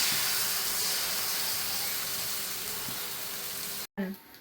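Rava dosa batter poured over onions on a hot pan gives a continuous loud sizzle and hiss for about four seconds, then cuts off sharply.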